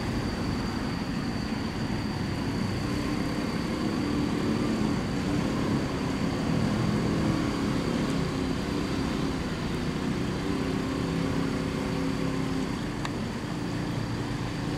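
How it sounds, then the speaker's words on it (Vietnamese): Steady engine drone from a boat on a river near a sharp bend, a constant low rumble with faint water wash and no talking. "Trên có một chiếc ghe xuống nữa nè."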